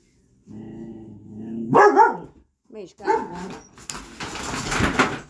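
A dog barks and whines in short bursts close by, with a person talking before and after the barks.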